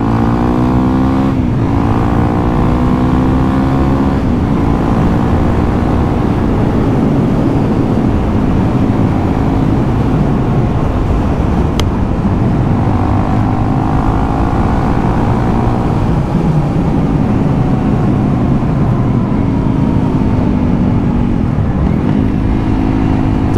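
A Honda CRF300L motorcycle with an aftermarket exhaust revs hard and close, its engine note climbing and falling in repeated sweeps while it keeps pulling to the red line, with occasional cracks and pops.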